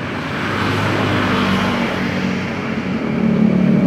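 A motorcycle engine with a sputtering, stalling-under-throttle fault runs close by as a steady low drone, swelling slightly louder near the end as the throttle opens, with no one speaking.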